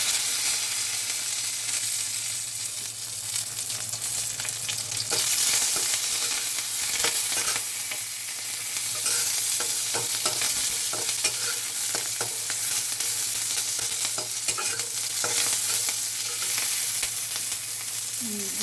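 Cumin seeds and curry leaves fry in hot oil in a pan for a Telugu ridge gourd peel and chana dal chutney, giving a steady close sizzle with scraping stirs throughout and no talking.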